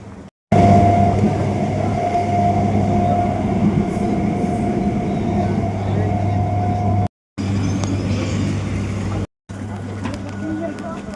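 A passenger train runs steadily between stations, a loud continuous rumble and rattle of carriages with a low drone, broken by two brief cuts, while voices talk faintly beneath.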